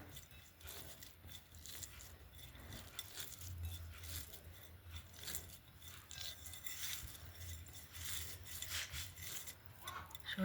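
Dried chili, onion, coriander leaves and salt mixed by hand in a bowl for a roasted eggplant mash, a continuous close scraping and rubbing texture with faint clinks, moderately quiet and steady.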